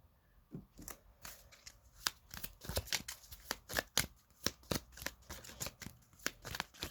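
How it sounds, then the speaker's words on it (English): Rapid riffling of tarot cards being shuffled, a series of crisp snapping bursts repeating over several seconds, close and fairly quiet, no voices. "I'm being called to continue shuffling."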